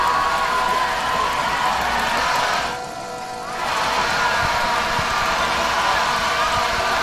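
At a Loyola vs. Northwood football game, the Flyer crowd in the stadium keeps up a loud, continuous roar of cheering that dips briefly midway before surging back, with a commentator's voice running over it.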